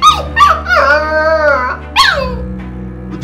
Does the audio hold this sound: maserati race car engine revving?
no